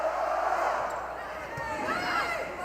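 A crowd at a Nebraska at Penn State college volleyball match roars and cheers after a kill, a sustained loud swell of voices filling the arena while a commentator talks over it.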